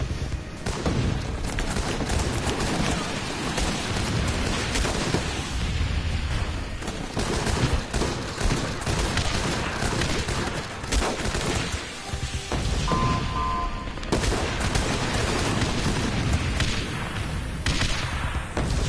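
Jungle rocket fireworks go off in a long, dense barrage of crackling pops and bangs that sounds like a sustained fusillade, loud and continuous, with no talking over it.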